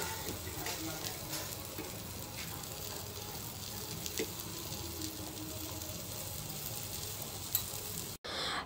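Fish frying Malvani style in a pan, likely bangda mackerel, with a steady broadband sizzle and light stirring scrapes throughout, fairly close, ending with a brief dropout and a small clatter.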